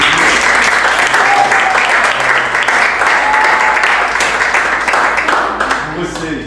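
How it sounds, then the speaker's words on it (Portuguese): A church congregation gives sustained applause at a testimony about pregnancy loss, a dense steady wash of clapping that holds for several seconds and tapers slightly at the end, with some voices mixed in. "queria que vocês recebessem com muita honra, com uma salva de palmas aqui"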